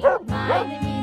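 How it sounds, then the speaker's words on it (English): A dog gives two or three short, close, yipping barks in quick succession, loud and alone. "Dog."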